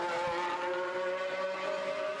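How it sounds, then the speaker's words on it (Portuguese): An Audi Formula 1 car sits in a pit stop while its medium tyres are swapped for hards, its engine giving a steady, sustained drone with a constant tonal hum throughout and no voices. "Hülkenberg fazendo o seu pit stop"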